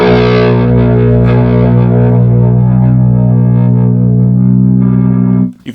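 A single sustained, heavily distorted note rings from a Harley Benton FanFret TE-7 DLX 7-string electric guitar as it is tuned and its pitch rises, loud and steady before cutting off abruptly.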